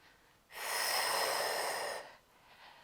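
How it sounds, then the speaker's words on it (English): A single long, breathy exhale during a Pilates dumbbell strength exercise, close and fairly loud, lasting about a second and a half between quiet moments. "Exhale, lift. Use your breath."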